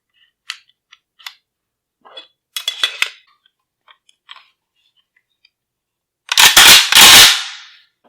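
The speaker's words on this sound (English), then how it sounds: "I'm going to insert" Parts of an AK rifle going back together as the recoil spring is inserted and the bolt carrier reassembled: scattered small metallic clicks and taps, then two loud close sliding clacks of metal near the end.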